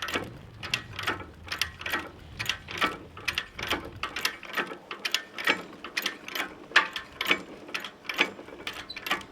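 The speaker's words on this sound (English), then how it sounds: "so you crank that up, you'll be right" A jack ratchet is cranked to bend steel with chains, producing a steady series of sharp mechanical clicks in an even rhythm, close and loud, with no talk over it.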